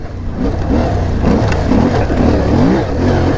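CFMOTO Ibex 450 and Royal Enfield Himalayan 450 adventure motorcycles ride over whoops, their engines loud and close, rising and falling in revs as the bikes bounce through the bumps, with wind buffeting throughout.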